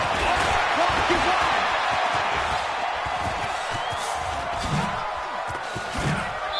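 A football stadium crowd roars in a sustained wall of cheering during a 2-point conversion, loud and continuous, with a voice talking over it.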